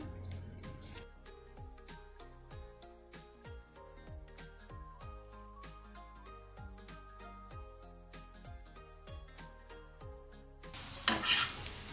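Methi paratha fries in vanaspati ghee on a pan with a soft, steady sizzle beneath background music, with a louder burst of sizzling at the end.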